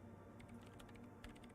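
Quiet, irregular clicks of fingers typing on a computer keyboard, a rapid patter of keystrokes with a short burst near the end, faint against a low room hum.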